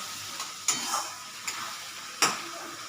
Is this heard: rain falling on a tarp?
no